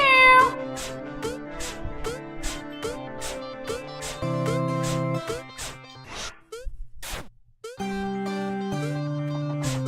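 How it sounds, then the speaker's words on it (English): Cartoonish cat meows from the video game Slice Night 3 repeat in a steady rhythm over a looping melodic game soundtrack, loud and close with no talking. "Meow."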